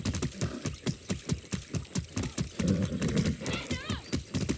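A quick, even rhythm of horse hooves clopping nearby, followed by a wavering neigh toward the end, in the video game Far Cry 6.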